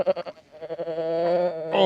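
A sheep bleats during lambing on a Scottish farm, one drawn-out wavering call that follows a few short stuttering bleats, close and loud with no talk.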